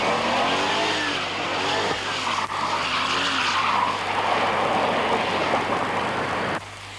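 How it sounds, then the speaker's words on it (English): A Bertone concept car from the 1980s spins out with the accelerator floored and ASR traction control switched off, producing loud, sustained tire screeching and engine roar up close that cut off abruptly near the end. "without the ASR, the vehicle was in a spin in no time at all"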